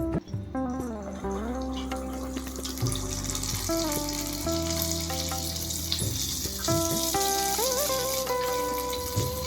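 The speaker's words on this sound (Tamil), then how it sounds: "வெள்ளையப்பம் ஊற்றி காமிக்கிறேன்." Vellaiappam batter poured into hot oil, a close steady bubbling sizzle with shifting tones as it fries, without any talking.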